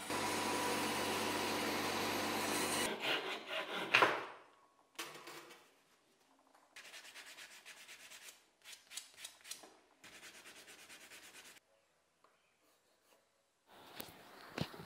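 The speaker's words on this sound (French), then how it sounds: "je les utilise comme référence pour pouvoir refendre partiellement mes poignets" A hand saw partially rips wooden handles, its rasping strokes coming in rhythmic bursts separated by short pauses, close and fairly quiet, after a louder stretch of background noise at the start.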